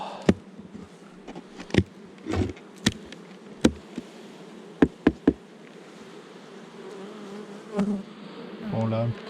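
Honeybees hum steadily at a hive during a linden honey harvest, with individual bees buzzing close past. Occasional sharp knocks and clicks sound over the drone, and a short rumble comes near the end.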